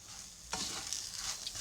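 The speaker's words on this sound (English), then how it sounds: "And get that sizzling." Butter, margarine and garlic sizzle in a hot pan, a sudden hissing crackle as they hit the pan, with stirring over the steady frying.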